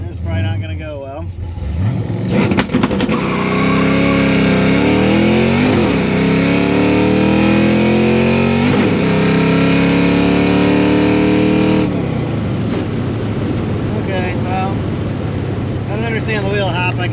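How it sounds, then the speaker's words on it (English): A nitrous-equipped car launching hard on a road with heavy wheel hop, the engine roaring loud and close for many seconds with rising, wavering revs and strong wind buffeting on the microphone. "Okay, a lot of wheel hops."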